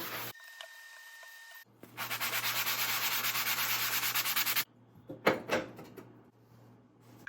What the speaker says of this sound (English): Here's a quick example of cleaning a range with the Power Paste.